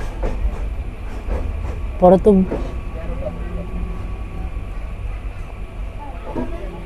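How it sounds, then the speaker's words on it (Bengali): The Kapotaksha Express pulls out of Noapara railway station at night, a low steady rumble of carriages with a brief clatter of wheels and a few sharp knocks early on, under a voice talking. "সন্ধ্যা 7টা 46 মিনিটে আমাদের ট্রেন ছেড়ে গেল নোয়াপাড়া রেলওয়ে স্টেশন থেকে"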